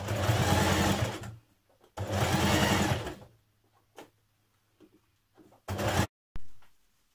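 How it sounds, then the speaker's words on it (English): Close, loud sewing machine top stitching a shirt neckband, running in sustained bursts of steady mechanical whirring separated by pauses and small handling clicks. "Top stitch your band down close to the long edges once you've pressed it out."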